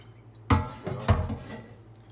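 Water is poured out of a 60-year-old cast iron skillet, two short close splashes with a brief trickle and dripping between them.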